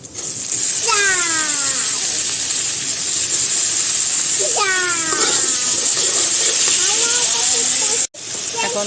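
Washed rice hits hot oil in a pan and fries with a loud, steady hiss close up, with brief squeaks as it is stirred and someone talking over it.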